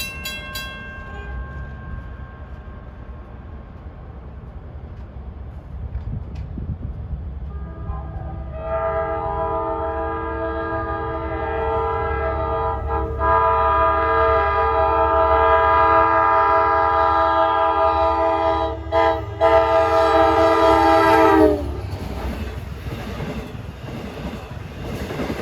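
An LIRR DE30AC diesel locomotive hauls a Jamaica–Patchogue train through the Windsor Avenue grade crossing in Brightwaters, opening with a low rumble, then a long, loud blast of its multi-tone horn while the train passes close, ending with wheel and rail clatter.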